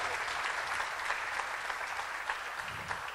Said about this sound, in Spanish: Gloria a Dios, dele fuerte el aplauso.